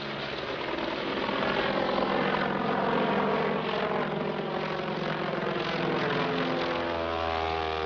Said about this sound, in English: it's noisy airplanes